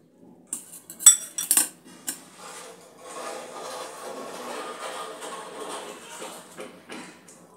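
A knife cutting through cooked prawn paturi wrapped with cabbage, with a few sharp clinks of cutlery against a plate at first and then a softer, sustained scraping and slicing sound, close and quiet.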